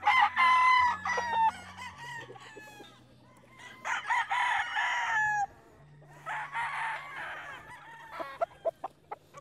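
Several gamecock stags crow in turn at a conditioning area, loud and close, with clucks and short calls between the long crows against a steady low background hum.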